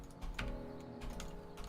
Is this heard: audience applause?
no